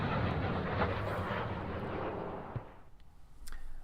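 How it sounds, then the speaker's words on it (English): Missile launch in Command: Modern Air Operations, a loud roaring blast that sustains for a couple of seconds and then fades away into quieter distant rumble, with a faint thump near the end. "let's send off one of our missiles over here"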